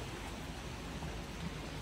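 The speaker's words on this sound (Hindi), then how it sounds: "ये बारिश हो रही है" Rain falls steadily into a swimming pool at night, a continuous, even hiss of drops with no talk.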